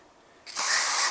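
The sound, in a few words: spraying cleaner into a Toyota Prius mass air flow sensor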